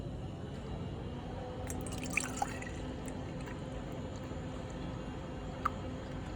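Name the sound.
milk being poured into a steaming pitcher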